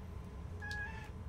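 A cat gives one short, thin meow, fairly close, over a low steady background hum.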